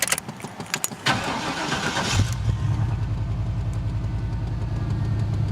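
An old truck with 303,000 miles cranks and starts after some clattering, then settles into a steady, rhythmic idle that stays close and even.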